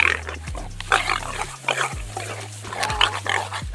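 A warthog squeals loudly and repeatedly while a leopard catches and pins it down, the harsh pig-like cries coming in close, rough bursts over low rumbling noise.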